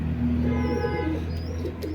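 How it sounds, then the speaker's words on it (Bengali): A pair of Teddy pigeons of the Saki line, kept as fancy birds, cooing softly and close by. Low, sustained throaty coos roll on continuously with faint higher chirps above, and no voices are heard. "এখন যে কবুতর দুটো দেখতে পাচ্ছেন কবুতর দুটো হচ্ছে আপনার এটাও সাকি জেনারেশন টিডি"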